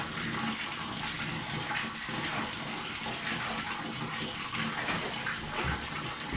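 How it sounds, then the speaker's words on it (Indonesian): Hand stirring laundry detergent through water in the tub of an AQUA JAPAN twin-tub washing machine, a steady sloshing, swirling wash of water that stays close and continuous with no talk over it. "Kita kocek-kocek ya di bawahnya biar lebih merata."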